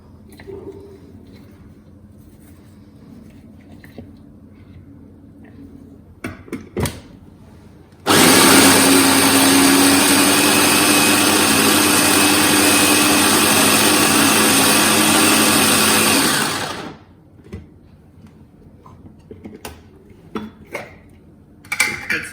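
An electric mixer grinder blends fresh coriander (hara dhania) masala in a loud, steady whir lasting about nine seconds, with quiet handling clatter before and after.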